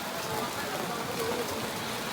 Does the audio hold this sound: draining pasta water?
no